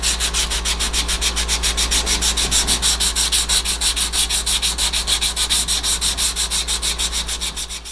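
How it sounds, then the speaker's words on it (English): A kukri blade is hand-sanded with sandpaper in a knife-making shop, a fast, rhythmic back-and-forth rasping of steady strokes, close and loud, continuing without talk. "Now back to sanding."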